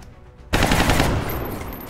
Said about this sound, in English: Laura, you'll get 2 shots here. Hit him twice